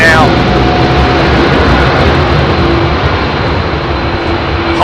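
A heavy jet departs runway 27R at London Heathrow, its engines producing a loud, steady broadband roar close by that fills the whole clip without a break.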